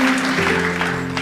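Applause from a congregation at a church worship service, a steady wash of clapping at moderate volume with a faint tonal hum running beneath it.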